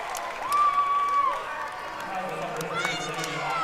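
A girls' high school basketball tournament crowd cheers a made and-one shot, a moderate roar of voices heard behind a commentator talking over it.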